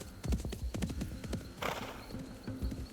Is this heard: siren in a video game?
no